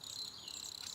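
Crickets chirp in a steady, bright, shimmering trill, faint and continuous with no other sounds.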